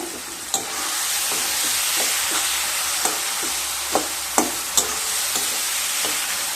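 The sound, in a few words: stirring pumpkin greens with shrimp in a pan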